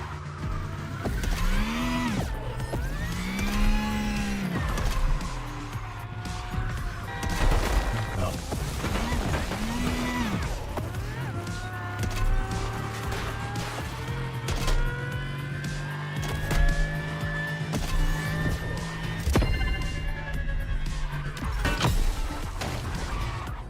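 A car racing in The Crew Motorfest with its engine rising and falling through repeated revving sweeps and gear shifts, plus boost surges and occasional impact thuds, continuing loudly throughout.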